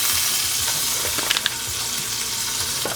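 Butter and avocado oil sizzling hard in a hot pan, a steady loud crackling fry with a few sharper pops, no voices.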